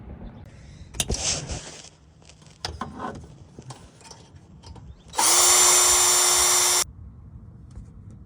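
A power drill whines in one loud, steady burst of about two seconds, drilling out a bolt during engine removal, preceded by scattered clanks and metallic handling noises.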